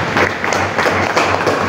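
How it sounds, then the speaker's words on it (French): An audience applauds at the closing of a media workshop in Kasaï Central, a loud, steady burst of clapping with a low hum running beneath it, brief and unbroken. "Est-ce qu'on peut applaudir pour ça?"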